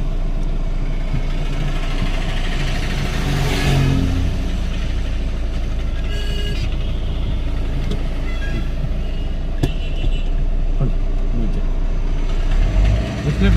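A car engine runs steadily close by as the driver starts off gently on the clutch and the vehicle begins to move, a loud continuous low hum with slight swells in revving, while people talk over it.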